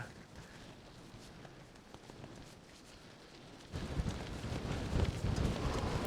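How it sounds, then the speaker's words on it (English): Wind gusting into a cyclist's face on a high mountain track in the Scottish hills, a low rumbling buffet that swells sharply louder partway through and stays strong. "the wind was certainly gusting right in my face at this point"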